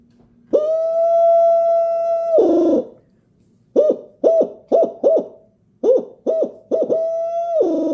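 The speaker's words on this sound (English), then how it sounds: "Now let's test the call." A hand-blown Brute Hoot owl call hoots loudly, starting with a long sustained note, then a quick series of short hoots, ending on another long hoot.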